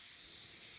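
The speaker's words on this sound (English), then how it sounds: "So then, we're going to spray a generous coat" Adhesive sprays from an aerosol can onto leather for a guitar pickguard, a short continuous hiss, soft and close, with no talking.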